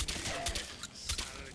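Gunfire in the video game Fallout 4, a few quick bursts of shots at moderate level over a noisy game background, with no clear talk.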